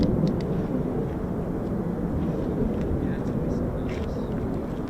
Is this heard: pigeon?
no